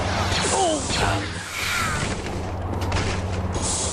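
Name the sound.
stormtroopers shooting in Star Wars Jedi Academy video game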